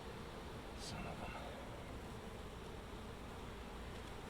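Honey bees buzz around a hive in a steady, dense hum that fills the whole stretch, with a brief nearer insect passing early on and faint background noise throughout.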